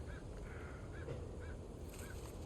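A large crow in the Resident Evil 4 video game caws about five times in a steady rhythm, fairly faint above a low rumbling game background.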